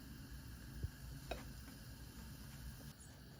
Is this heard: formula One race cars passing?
no